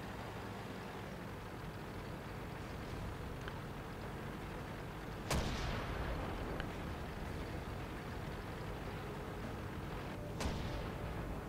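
Tank cannons fire in World of Tanks, with two sharp booming shots several seconds apart, each followed by a brief rumbling tail, heard over a constant low engine and battle drone without talking.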